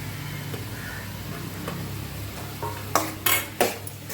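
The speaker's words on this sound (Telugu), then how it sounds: "ఇప్పుడు ఒక క్యాప్సికమ్ సన్నగా తరిగి పెట్టుకుంది యాడ్ చేస్తున్నాను." Finely chopped capsicum goes into a pan of frying pepper chicken, with a faint sizzle underneath and a few sharp clinks and scrapes of a utensil against the pan near the end.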